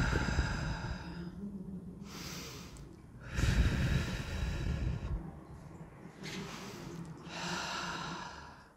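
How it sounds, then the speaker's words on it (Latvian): Deep, audible breathing during a core-strengthening workout: slow alternating inhales and long exhales, several close breaths in an even rhythm, with no talking. "Elpo, neaizmirst elpot, ielpa, izelpa."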